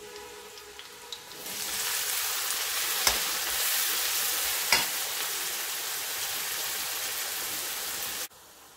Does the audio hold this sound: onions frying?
yes